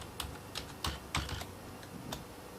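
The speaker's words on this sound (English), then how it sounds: "then I type in my password" Typing a password on a computer keyboard: a few separate, fairly quiet keystrokes in an uneven rhythm, heard alone with no talking.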